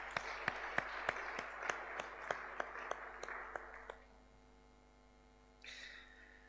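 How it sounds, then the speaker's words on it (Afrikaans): Audience applause at a church gathering, a few sharp, evenly spaced claps over a sustained wash of clapping that fades out after about four seconds, with a steady mains hum underneath. "Kom ons geef hulle nog 'n hande klap."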